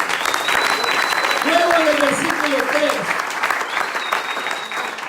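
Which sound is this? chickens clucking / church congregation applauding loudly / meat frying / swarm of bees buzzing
church congregation applauding loudly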